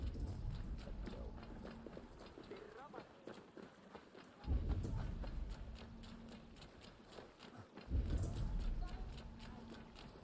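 Horse hooves clip-clop in a steady trotting rhythm in Assassin's Creed Valhalla's Wrath of the Druids, close and continuous, with a speaking voice over the top and swells of game sound around them.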